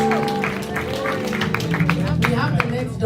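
Church congregation giving a clap offering during a Sunday service, a busy spread of hand claps that runs under ongoing talk and fills the room.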